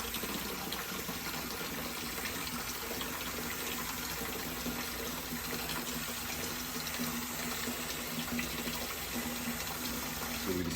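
Dark brown stormwater runs through a micro-bioretention facility in Maryland, a steady, fairly loud gushing flow like an open tap pouring continuously without pause.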